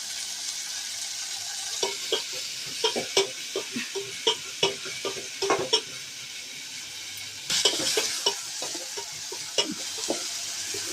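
Tomatoes and onions fry and sizzle in a pan for a brinjal and raw mango curry, with a steady hiss and repeated sharp clinks and scrapes of stirring throughout, no talking.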